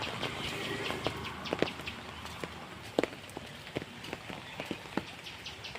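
Soft, steady patter of rain on a muddy path to a field, with scattered drips and taps, plus a few crunchy footstep-like thuds on a wet surface.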